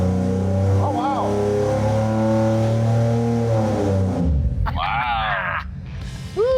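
A rebuilt old school Chevy 4.3L V6 roars wide open on a dyno, a loud steady drone with rising harmonics, cutting abruptly near the end, while people exclaim and talk over it.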